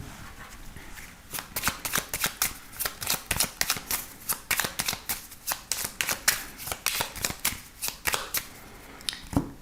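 A 32-card deck is riffled and shuffled in rapid, repeated bursts of crisp card flutter, close and distinct, with short pauses between runs.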